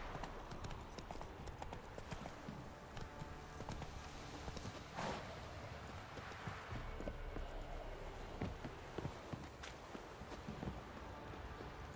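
Hooves of Roach, the horse in The Witcher 3: Wild Hunt, clopping at a run in a steady, faint rhythm over a continuous background of game ambience.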